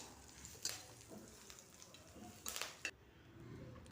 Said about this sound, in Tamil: இதை நல்லா மொறுமொறுப்பாக ஆகிற வரைக்கும் பொறுமையாக மீடியம் ஃப்ளேம், லோ ஃப்ளேமில் மாற்றி மாற்றி வச்சு நல்லா வறுத்து எடுத்துக்கலாம்